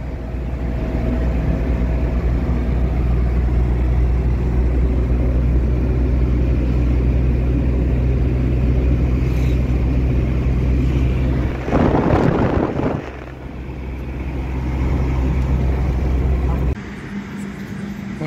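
A 1997 Maruti 800 running on LPG, a steady low engine rumble heard from inside the car for the whole stretch, with a brief louder rushing burst midway and a slight drop in tone near the end.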